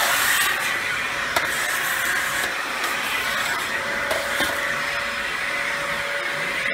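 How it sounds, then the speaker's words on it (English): A Dyson DC14 Animal upright vacuum runs steadily at full suction, a loud continuous whine and airflow roar with a faint tonal hiss, as its suction relief valve opens without a distinct break. "You heard that noise? There's actually a little relief valve that opens when there's too much suction being blocked."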